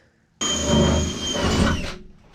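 A power drill whirs steadily for about a second and a half while boring guide holes at weld edges, its pitch dipping slightly under load, then stops; close and loud, no voices.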